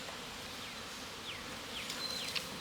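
Swarm of honeybees buzzing around the entrance of a hive in a tree: a dense, steady hum with occasional brief higher buzzes as individual bees pass close, no voices.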